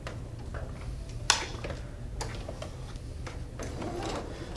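Domestic sewing machine stitching the first pass of a French seam at a quarter-inch allowance on a shift dress, giving a steady low mechanical hum with light repeated ticks and one sharper click early on, no talking.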